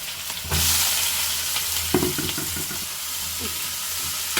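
Onion drops into hot oil that already holds spluttering mustard seeds and sets off a loud, steady sizzle close by, with occasional stirring clinks against the pan.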